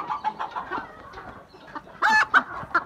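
Chickens clucking in short bursts, a flock nearby with some louder calls toward the end.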